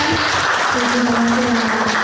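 Audience applause fills an Easter celebration hall, a dense, continuous clapping that stays loud throughout under a faint sustained musical tone.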